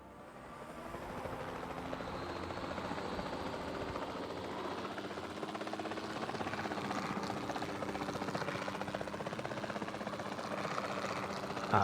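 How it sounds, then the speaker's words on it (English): A helicopter in a Jurassic Park video game, a continuous close rotor and engine drone that holds steady and slowly builds in loudness, with no talking over it. "I guess I might as well get in the helicopter if I'm searching."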